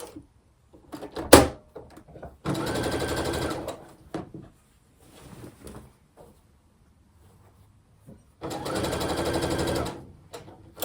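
A sewing machine stitching pinned fabric for a quilt, in two short whirring bursts separated by quiet pauses with clunks and handling noises.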